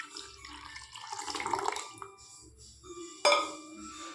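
Water pours into a pot while rasam is being made, with tamarind already dissolved. It splashes and trickles in irregular bursts, and a sharp clink from the pot cuts in near the end.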